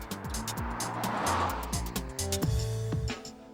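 Volvo S60 front-wheel drive car driving, its engine revving and rising through gear changes with a brief tire squeal, fairly close and loud.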